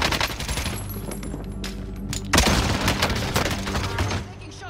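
Rapid automatic gunfire bursts from an AK-74u in Call of Duty Warzone, loud and close, with a heavier crack midway and dense overlapping shots.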